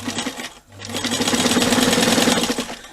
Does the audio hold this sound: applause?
no